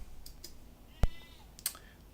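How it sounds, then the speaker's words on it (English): A single brief bleat from a goat, fairly close, stands out against a quiet background with a few faint clicks around it. "the goats need feeding"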